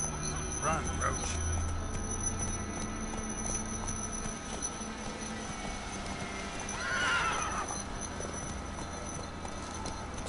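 The horse Roach in a video game gallops with steady clip-clop hoofbeats and then gives a clear neigh partway through, under low background noise and a voice speaking.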